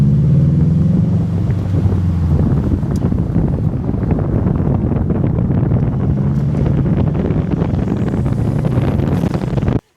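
A 2021 Subaru STI with a COBB intake pulls along the road, its engine drone and intake whoosh rising under heavy, steady wind buffeting from open windows, loud and continuous throughout.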